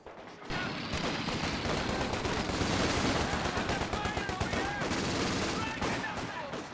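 Rapid machine-gun fire from a universal carrier in Company of Heroes 2, a dense sustained burst of close, loud rattling shots running almost without pause, mixed with other battle gunfire.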